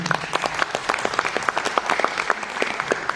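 Applause from a small audience for the Podillia Motor motoball team in Kamianets-Podilskyi, individual claps clearly separable in a brisk irregular patter, close and moderately loud, no talking.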